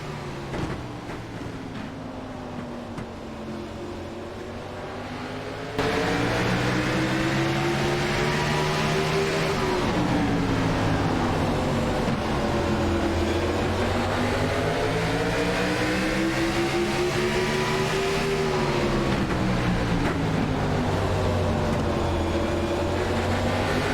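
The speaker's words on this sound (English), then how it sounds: "Let's take a listen as we go to a fan immersion for this upcoming restart as the cars battle for the lead." Race cars restart at Martinsville in a sim racing game. The engine drone is low at first, then jumps sharply louder as several cars rev and pull at once, their pitches rising and falling in overlapping sweeps with no pause.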